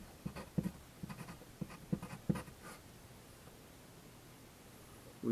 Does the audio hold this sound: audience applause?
no